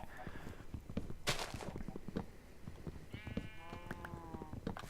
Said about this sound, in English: Got enough sheep.